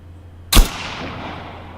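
A suppressed ASP-1 Kir rifle firing a subsonic round in Arma 3: one sharp, muffled shot that decays into a short tail, standing alone over a low steady hum.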